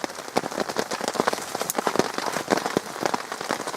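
Steady rain patters onto a camp shelter during a damp, humid overnight stay, a dense spread of close droplet taps and splashes that carries on without pause and with no voices.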